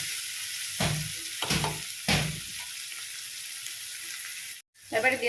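Vegetables frying in hot oil in a pan for a rolled flatbread filling, a steady broadband sizzle with a few louder stirring bursts, a brief cut to silence near the end, then sizzling resumes.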